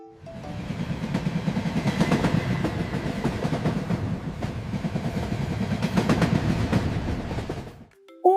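A freight train rolls past close by, a long steady rumble with rhythmic clacking of wheels over rail joints that fades at the end.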